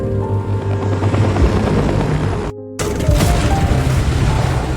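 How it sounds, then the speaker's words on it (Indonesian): A helicopter arriving thumps and roars loudly and up close, its rotor drone briefly cut off before resuming with clattering mechanical noise, no voices. "Jinman datang bersama helikopter lalu menyelamatkan mereka."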